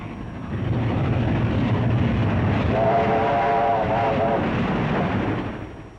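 A train rumbles past steadily, swelling and fading, with a brief whistle-like tone sounding midway through the passing noise.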